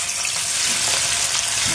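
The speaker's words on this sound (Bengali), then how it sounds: "কচুটা সিদ্ধ হতে হতে আমি মাছগুলো একটু ভেজে নিই।" Fish frying in hot oil in a pan for a Bengali fish curry with taro, a steady, dense sizzle that stays close and loud throughout.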